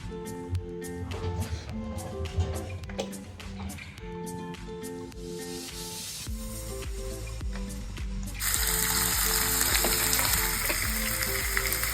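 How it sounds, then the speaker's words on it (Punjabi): Taro (arbi) frying in a pan at home, a steady close sizzle that swells louder and more intense in the final seconds, with soft clinks and stirring over a faint musical backing. "ਮੈਂ ਅਰਬੀ ਫਰਾਈ ਕਰਕੇ ਕੱਢ ਲਈ ਆ"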